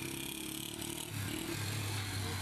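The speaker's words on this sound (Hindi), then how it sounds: "सारे मोटरसाइकिल वाला जा रहे हैं" Motorcycles rolling past on a road in Islamabad during Eid, a steady engine drone with a deeper rumble building toward the end, fairly close and continuous.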